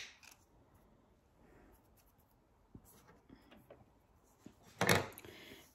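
Scissors snip through fabric trimming a small dog bow tie, a few quiet cuts scattered at close range with one sharper, louder snip near the end.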